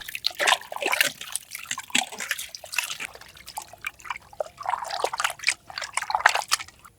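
Raw chicken, about a kilogram, rinsed under running water in a home kitchen: trickling, splashing water and wet sloshing as the pieces are handled, fairly close, with no talk.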